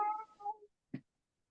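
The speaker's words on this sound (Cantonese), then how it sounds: "你喵咩啊？" A house cat gives a short drawn-out meow followed after a pause by a brief second chirp-like mew, close and fairly quiet.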